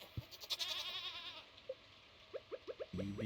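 A goat in the Stardew Valley farming game bleats in short, quiet digital calls, followed by a quick run of faint plucky game sound effects and a soft chime.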